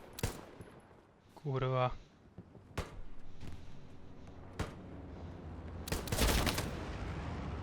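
Sharp gunshots crack at intervals in the video game Hell Let Loose, with a rapid burst and a louder volley near the end, while someone speaks briefly in Czech over them.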